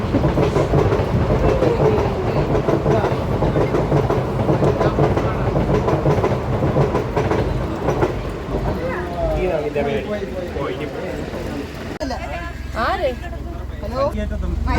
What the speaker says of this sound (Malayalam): അവരുടെ വീടിന് ഫ്രണ്ടിൽ കൂടി ട്രെയിൻ പോകും.